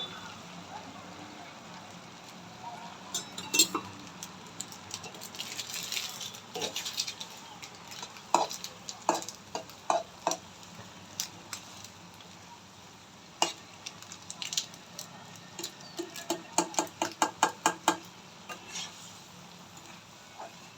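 Food being stirred in a hot frying pan during home cooking, with a soft continuous sizzle under a run of scraping and clinking strokes from a spoon against the pan, some in quick clusters, with a voice speaking now and then.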